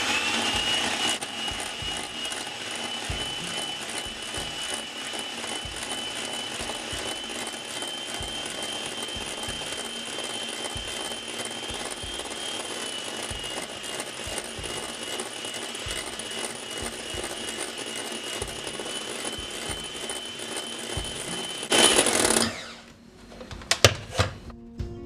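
A honey mixture is beaten until airy with a steady, continuous whirring drone that holds for over twenty seconds before cutting off, followed by a few clatters.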